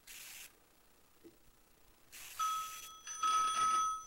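During a line test, a telephone's ringer bell sounds in short, faint metallic rings in the last part of the clip, after some quiet rubbing and handling noise.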